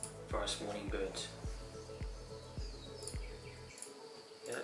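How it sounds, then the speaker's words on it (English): A forest morning birds sound effect: scattered chirps and tweets over a steady ambient bed with regular low, soft pulses underneath, moderately loud, with no talk. "forest morning birds?"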